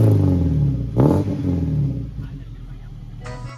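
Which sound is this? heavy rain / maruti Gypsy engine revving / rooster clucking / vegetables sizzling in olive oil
maruti Gypsy engine revving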